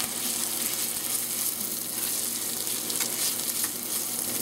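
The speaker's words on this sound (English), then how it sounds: "I'm going to add some of our wine to kind of deglaze, and you can hear the sizzle of it" Wine sizzling hard as it deglazes a hot pan while lemon and pea risotto cooks, a loud, dense, steady hiss of frying close by with no talk over it.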